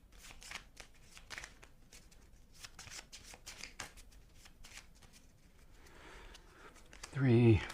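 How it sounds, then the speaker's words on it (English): Cards from a G.I. Joe deck-building tabletop game are shuffled by hand in a steady run of quick riffling flicks at close range, with a person talking lightly underneath. "Shuffle the hand."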